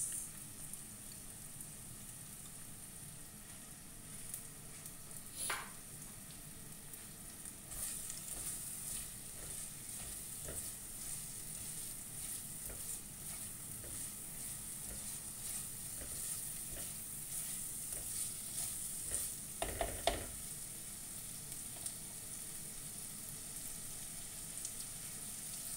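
Onions fry in a pan for a creamy egg curry, a soft steady sizzle lasting throughout with occasional scraping stirs and brief louder crackles.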